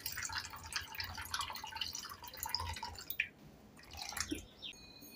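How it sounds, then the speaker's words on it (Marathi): Water poured into a pot of washed lentils, a soft continuous splashing trickle at close range that eases off partway through and is followed by faint drips. "आता आपण याच्यात पाणी घालूया."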